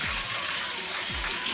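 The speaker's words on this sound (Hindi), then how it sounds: "बाद अचानक से फिर से पानी गिरे चालू हो गए" Rain falling outside on a village street, a steady, soft broadband hiss of water with faint low thumps underneath.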